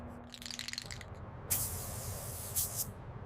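Clear coat sprayed onto a Volkswagen T2 during restoration: two close, sharp hissing bursts of the spray gun over a low background hum, with a fainter earlier spray at the start.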